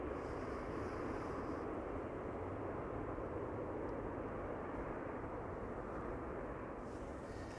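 A TAP Air Portugal airliner in retro livery turns on the ground at Amsterdam Schiphol, its engines a steady, distant rumbling roar that holds even throughout with no voices.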